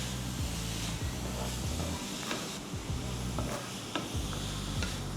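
Garlic sautéing in oil gives a close, continuous sizzle and hiss, broken by soft stirring scrapes at irregular intervals.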